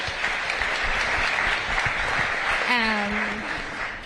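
Applause from an audience at a city engagement forum runs steadily throughout, and a voice begins speaking over the clapping in the last second or so.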